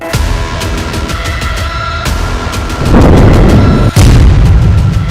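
Israeli military strikes in Lebanon and Syria set off heavy explosions in news footage: a continuous rumbling roar broken by sharp blasts, growing louder and deeper toward the end.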